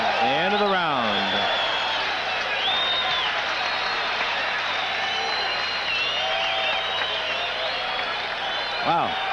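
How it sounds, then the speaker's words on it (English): Boxing arena crowd applauding and cheering after a round, a sustained loud roar of clapping and voices with whistles rising over it, while a commentator talks. "this crowd applauding them very thunderously, almost gratefully for this showing"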